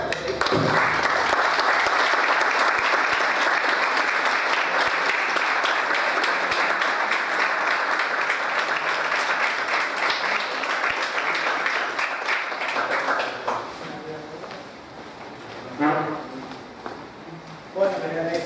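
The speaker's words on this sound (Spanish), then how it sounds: "esta sinergia merece un aplauso" Sustained applause from a crowd at a political training class for about thirteen seconds, then fading out into scattered claps and a voice beginning to speak.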